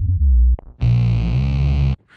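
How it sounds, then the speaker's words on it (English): A short hummed note, then a buzzy, distorted bass tone sustained for about a second, a voice processed through an effects pedal into a deep, gritty bass line. "it goes through the effects pedal and gets manipulated to sound like a bass like this"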